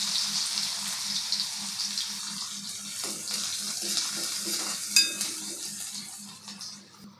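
Onion added to hot oil in a pan for a Maharashtrian chawli (black-eyed pea) curry, giving a steady close sizzle and hiss of frying throughout with faint stirring clinks.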